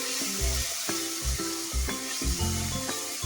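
Chicken frying with tomato and turmeric powder in a pan, a continuous sizzle under rhythmic, repeated low knocks and clatter of stirring.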